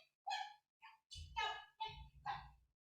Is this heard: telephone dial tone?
no